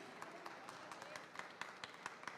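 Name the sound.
congregation applauding in church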